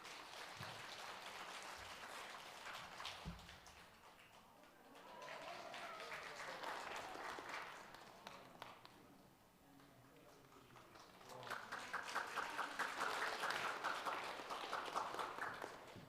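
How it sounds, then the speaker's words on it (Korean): Church congregation applause during a Sunday worship service, faint and distant in a large hall, rising and falling in waves with a livelier swell near the end, mixed with some background voices. "박수해 주세요."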